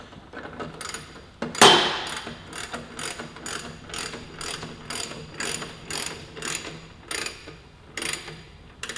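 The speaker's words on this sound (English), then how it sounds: "What I am going to do is I'm going to run down the axle nut just enough so we have the tiniest little bit of tension here" Ratchet clicking in a quick, even rhythm while running down the rear axle nut on a 2015-2017 Yamaha R3 motorcycle, one louder burst near the start, then steady close clicks with no talk.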